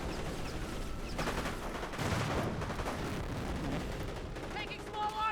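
Small arms gunfire crackles through a Company of Heroes 1 battle, US forces against Panzer Elite, as dense overlapping bursts of rifle and machine gun fire roll continuously with booming impacts underneath.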